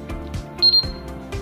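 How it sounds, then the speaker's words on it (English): Moore & Wright MW198-40DPL digital height gauge beeping as force is applied: one clear, bright electronic beep, close and fairly loud, over a low background hum and light handling sounds. "Apply the force and wait for the gauge to beep"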